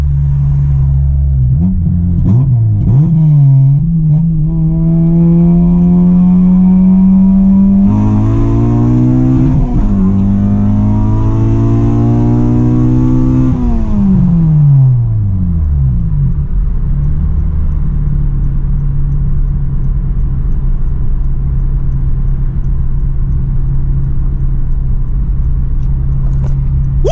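An all-motor Honda Civic Si running E85 pulls hard, engine climbing in pitch through one gear, snapping into the next and climbing again, then dropping off to a loud, steady drone close up.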